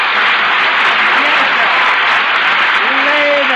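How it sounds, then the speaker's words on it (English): Radio studio audience applauding on an old comedy variety program, a dense, steady wash of clapping that fills the whole stretch at a loud, close level with no pauses. "Lay that beautiful old program applause on me."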